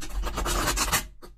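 A quick run of papery riffling and scratching as tarot cards are shuffled, steady for about a second, then a brief pause and a short final flick of cards.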